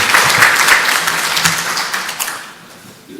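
A short burst of applause from a church congregation, loud at first and then thinning out and fading over a few seconds.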